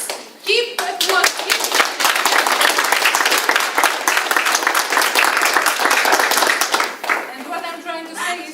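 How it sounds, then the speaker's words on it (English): Continued applause at a club speakers' and evaluators' contest, a sustained round of close, crisp hand claps with voices talking at the start and again as the clapping fades. "Keep applause."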